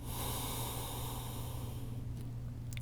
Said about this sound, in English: creating an oceanic sound with the breath